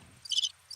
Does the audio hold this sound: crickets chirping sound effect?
yes